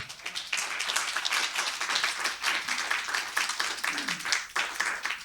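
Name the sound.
audience applause at a lecture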